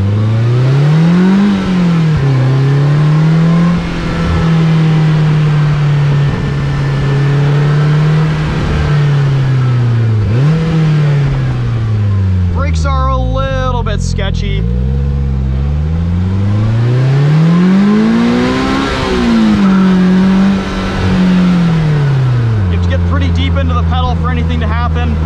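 A 2022 Polaris Slingshot S engine revs up and down repeatedly while driving, loud and close, with rising and falling pitch and a brief gear-change dip midway.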